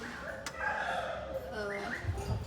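A black hen with long feathers clucks nearby in a run of short, throaty calls that rise and fall, fairly close and clear.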